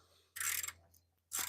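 A hand ratchet cranks a bolt on the steering rack of a 1996 NA Miata, cleaning the threads and captive nut, in two close, loud bursts of rapid clicking separated by a short pause.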